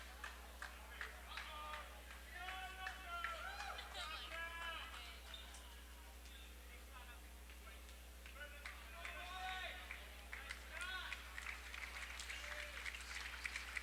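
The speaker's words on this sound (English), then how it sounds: "Now the Red Riot partisan crowd will start to clap them on" A partisan home crowd at a 1993 boys high school basketball game claps steadily, faint and distant, with shouts and cheers under close talk.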